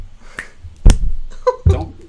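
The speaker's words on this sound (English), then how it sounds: "The clapper expected two claps" Sharp hand claps meant to trigger a Max/MSP clapper patch, several crisp close impacts spaced unevenly over two seconds in a quiet room.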